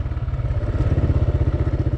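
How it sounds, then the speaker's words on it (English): A KLR 650 motorcycle engine pulls along steadily while riding on dirt, a loud, close, rhythmic low thumping with even pulses and no one talking. "Really love this torquey engine."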